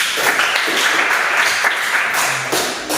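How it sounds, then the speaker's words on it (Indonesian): Classroom applause for student group number one after presenting their concept map: steady, dense clapping from many hands, loud and continuous for about three seconds with no pause. "Tepuk tangan untuk nomor 1."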